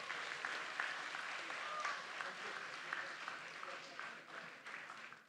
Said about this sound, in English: now give the loudest round of applause to all of them.